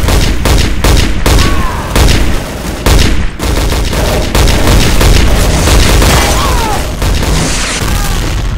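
Heavy gunfire and booming blasts in the video game Day of Defeat: Source, a dense, loud, nearly continuous barrage of shots throughout, with occasional voices underneath.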